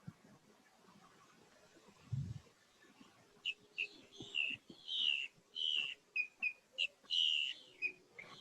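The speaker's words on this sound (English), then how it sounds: "Listen to the birds sing to you." Several bright, high birdsong phrases and chirps ring out in quick succession against a quiet park background, with a soft low thump early on.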